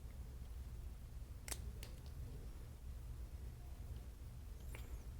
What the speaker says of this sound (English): cut these wires here,